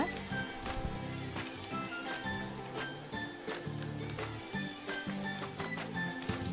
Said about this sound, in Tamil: கடாயில் எண்ணெய் சூடானதும் ஒவ்வொரு உருண்டையாக மாவில் முக்கி நல்லா பொரித்து எடுத்துடலாங்க